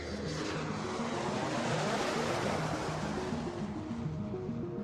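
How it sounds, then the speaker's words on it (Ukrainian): An Antonov An-225 Mriya, the world's largest aircraft, roars with a steady, loud engine drone and wash, sustained and close throughout without speech. "щойно створений найбільший у світі літак Ан 225 Мрія"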